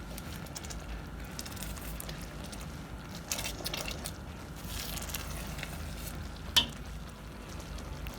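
A thick, bubbling grape jelly mixture is stirred in a pot, with soft continuous sizzling and a brief scrape of the spoon near the end.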